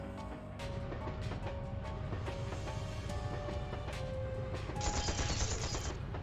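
Gunfire in the video game Trails to Azure, rapid overlapping shots and bursts over a steady background of game music.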